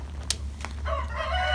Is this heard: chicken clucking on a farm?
yes